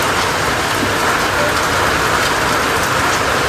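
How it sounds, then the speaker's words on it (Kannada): Rain falling steadily in a summer shower, a loud, even hiss of drops hitting surfaces close by, continuous and unbroken with no voices. "ನೋಡ್ರಿ ಮಳೆ ಬೀಳತೈತಿ."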